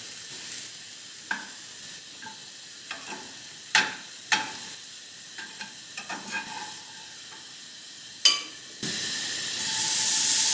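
Stale bread frying in butter in a pan, a quiet sizzle under scattered scrapes and clatters of a utensil stirring, with a louder hiss at the end.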